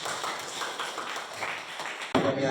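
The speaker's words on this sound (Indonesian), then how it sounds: "Tepuk tangan." A classroom of students claps hands together in a brisk, dense burst that runs for about two seconds, then shifts abruptly to a louder noisy sound at the end.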